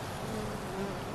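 Honeybees hum steadily around backyard hives, a close, even buzz with no breaks and no voices over it.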